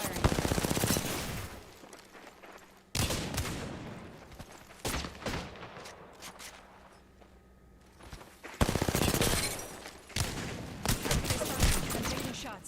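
Bursts of automatic gunfire in Apex Legends, loud and close, come in several clusters separated by quieter lulls with distant shots, and a voice talks briefly between them.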